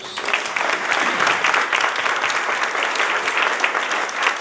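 A church congregation applauds together during a worship service, a dense, steady wash of clapping filling the room from start to finish.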